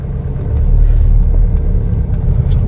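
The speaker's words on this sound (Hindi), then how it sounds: "गाड़ी क्रॉल करने लग गई है" Tata Harrier SUV crawling uphill in second gear on idle with no accelerator, AC off and eco mode on: a steady, heavy low engine and road rumble from inside the cabin, with no talk.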